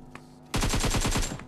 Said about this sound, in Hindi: मुझे गाइस ऊपर एक फायरिंग की आवाज आती है।